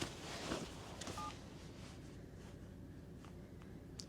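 Keypad dialing tones from a phone accidentally pocket dialing, a few short beeps over steady outdoor background noise on a snowy Central Texas ranch.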